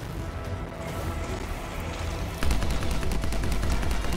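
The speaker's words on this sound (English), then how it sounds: "Rapid fire headshots." Rapid gunfire from a weapon in the shooter game Anthem, a dense continuous stream of shots that grows sharper and louder halfway through, close and dominant with no talk.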